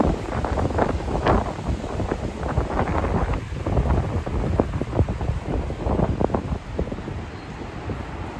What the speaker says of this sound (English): Just have to enjoy the wind.